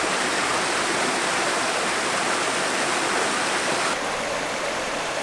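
River cascades rushing over rocks, a dense, loud and continuous wash of falling and flowing water that stays steady throughout, with no voices.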